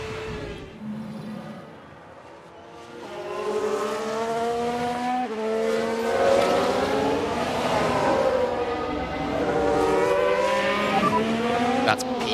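Race car engines in F1 Manager 2022 during a race spin, several high revving engine notes rising and falling as cars pass, with faint crowd or track ambience and a commentator voice.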